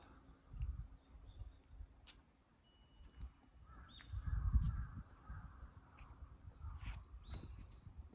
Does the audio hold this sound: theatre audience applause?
no